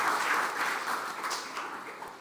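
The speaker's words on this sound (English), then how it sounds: "if you'd like to give a round of applause to everybody that was in our panel today" Audience applause for a panel at a leadership and youth empowerment event, steady soft clapping from a room of people throughout, somewhat distant and even.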